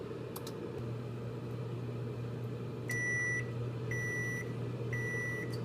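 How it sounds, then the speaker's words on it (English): A microwave oven heating corn on a plate hums steadily, then gives three short beeps about a second apart near the end. "put it in the microwave."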